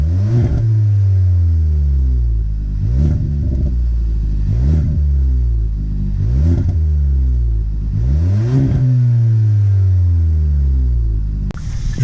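Kia Ceed Edition #1 car pulls away and accelerates through repeated gear changes, its engine note climbing and dropping in a rhythmic pattern of rising revs, loud and close from inside, with no talk.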